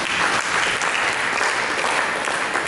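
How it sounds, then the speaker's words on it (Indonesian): A church congregation breaks into loud, dense applause during a sermon, with continuous clapping that holds steady throughout. "Berikan tepuk tangan bagi itu"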